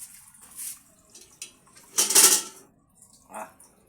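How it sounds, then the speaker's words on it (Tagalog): Cooked pasta being rinsed in a pot: short bursts of splashing water and clinking metal, with one louder gushing pour in the middle and a softer splash near the end, close and intermittent. "Ito yung pasta, hugasan dahil malambot na siya."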